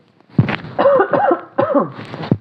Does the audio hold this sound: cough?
yes